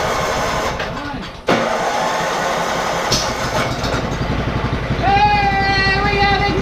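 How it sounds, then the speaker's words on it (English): A Manco Dingo go-kart engine cranks, catches and fires up, settling into a loud, close, rapid putter with a rising whine, while a voice talks excitedly over it. "Hey, we have ignition!"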